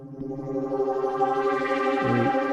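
A sustained tone washed in heavy reverb with a 2.5-second reverb time and modulation, thick and smeared with a long ringing tail, moderately loud with no voices.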